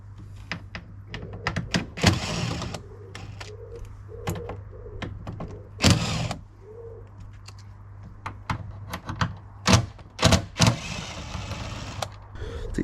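Power screw gun with a T30 Torx bit backing screws out of a BMW E60 wing mirror, in short sharp whirring bursts separated by pauses with small clicks and handling thuds, close by.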